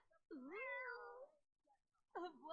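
A Sims 4 cat named Snow gives a drawn-out, rising and falling meow, then starts another after a short pause, clear and close.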